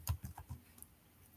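Python code is typed on a computer keyboard as a short burst of about five quick, quiet keystrokes close to the microphone, followed by a faint lone tap.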